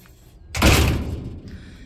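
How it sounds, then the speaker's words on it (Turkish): A door shuts with a single loud, dull thud that fades quickly into a quiet room. "Kapıyı da kapatamadım."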